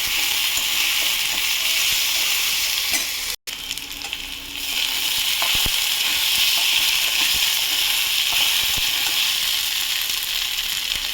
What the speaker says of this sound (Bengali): আমি আলুটাও একটু ভেজে ফিরছি বন্ধুরা।